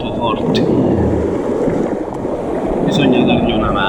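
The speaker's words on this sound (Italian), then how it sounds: "Le onde sono troppo forti" Strong sea waves crash and surge along a rocky shoreline during light-tackle squid fishing, a loud continuous roar of surf with wind buffeting the microphone, and a voice speaking over the noise.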